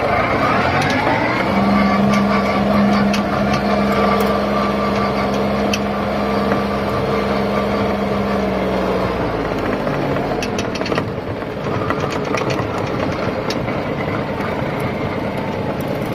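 An Iseki TM17 small tractor engine runs steadily up close in third gear, its low drone holding a constant pitch for several seconds before dropping as it eases off.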